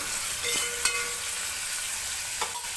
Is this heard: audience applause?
no